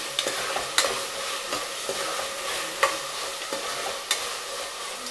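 Vegetable pulao with potato, carrot and tomato stirred in a pressure cooker, a soft continuous sizzle broken by repeated scraping clicks of the spoon against the pot, close and fairly loud, with no talking.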